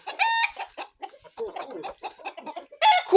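Chickens and a rooster cluck and squawk close by in a busy, uneven flurry, with a sharper loud call at the start and another at the end.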